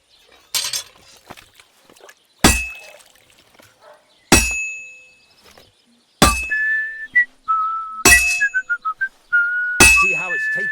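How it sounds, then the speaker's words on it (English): Blacksmithing in Kingdom Come Deliverance 2: a hammer strikes hot metal in five or six sharp, ringing clangs a couple of seconds apart, with short whistling game tones sounding between the blows. "you can tell a good strike by the sound it makes"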